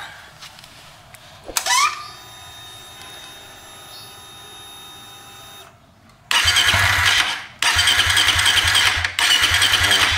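A Suzuki motorcycle's electric starter whirs briefly, then cranks loudly in two long, close bursts, each a steady churning drone that stops without the engine catching.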